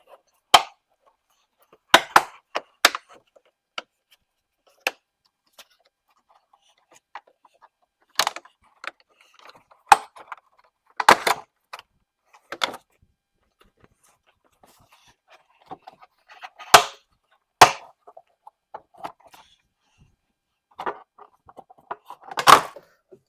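Plastic clips holding a BMW X5 side skirt snap and pop as the panel is pried off with a jack handle, sharp irregular cracks and clicks scattered among quieter fumbling.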